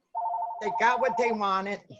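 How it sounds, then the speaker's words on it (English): A phone rings with a steady repeating electronic tone during a meeting, then someone talks over it as the ring continues underneath. "And that's just my phone, I'm gonna ignore it."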